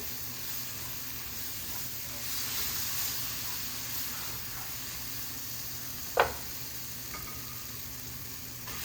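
Black pepper and basil sizzling in a pasta pan for garlic cherry tomato pasta, a steady close hiss of frying with light stirring and one sharp utensil clink near the end, no talk.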